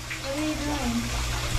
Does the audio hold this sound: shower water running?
yes